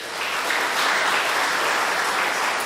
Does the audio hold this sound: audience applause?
yes